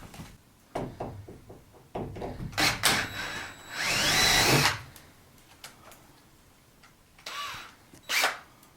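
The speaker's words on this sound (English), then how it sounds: "I'm going to drill the rivets out now and remove this bar" A power drill works at the rivets of a bar inside a double-decker bus being stripped out, heard as short knocking and scraping bursts and then one longer grinding whirr, fairly quiet and close, with no talk.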